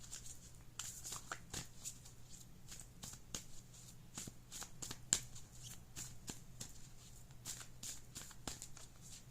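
A Moonology Oracle card deck shuffled by hand, producing repeated crisp riffling flutters and light card slaps in an irregular rhythm, close and fairly quiet with no talking.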